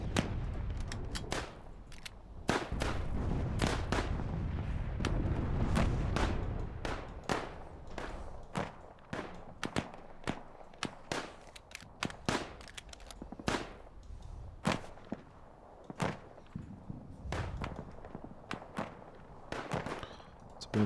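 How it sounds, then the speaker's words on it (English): Artillery barrage in the WW1 strategy game Dig In: a rapid string of sharp explosive bangs and thuds, dense at first with a rumbling low roar, then thinning into scattered loud blasts. "Heavy artillery attack."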